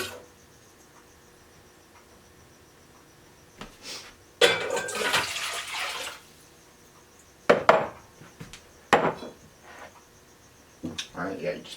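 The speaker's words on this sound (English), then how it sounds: "you just pour the water in there," Water poured from a container into a rice cooker pot for cooking rice, heard as a few short splashing bursts separated by quiet gaps.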